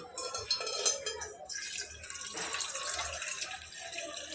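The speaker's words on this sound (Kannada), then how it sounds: "ನೀರು ಹಾಕ್ತಾ ನೀರು ಹಾಕೋಣ" Water poured from a large glass into a pot on a lit stove, a steady splashing stream running on for several seconds, close and moderately loud, with faint clinks of the vessel.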